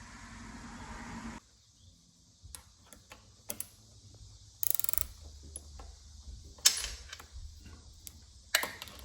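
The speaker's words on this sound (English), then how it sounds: "In this case, I'm going to use a ratcheting wrench" A ratcheting wrench loosening a 12mm nut on a Honda Hondamatic motorcycle handlebar, giving repeated close clicking and ticking bursts with pauses and a few sharper metallic clacks, heard alone without talk.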